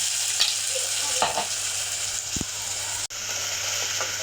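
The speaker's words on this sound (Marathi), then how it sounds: "मसाला आता भाजून घेते मी मस्त असा मसाला भाजत आहे" Ground spice paste for a curry roasts in a pan with a constant sizzle, punctuated by a few soft stirring scrapes and a brief cut in the sound near the end; no one speaks.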